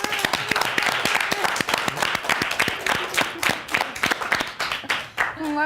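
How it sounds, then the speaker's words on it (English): Loud, sustained applause from a crowd, dense clapping throughout that thins slightly toward the end. "let's give a huge global round of applause to our wonderful instructor, Vanessa Van Edwards."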